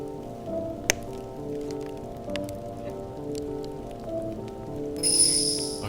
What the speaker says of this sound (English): here we can hear the sound of the rain